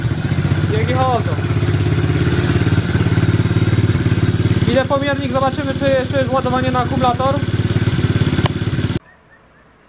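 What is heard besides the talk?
110/125 quad engine running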